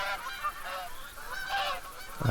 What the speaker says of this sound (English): And man, these geese are noisy.